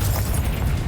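Confringo fire spell blast in the Hogwarts Legacy video game, a dense, loud booming burst that fills the whole short moment with heavy low rumble and crackling noise.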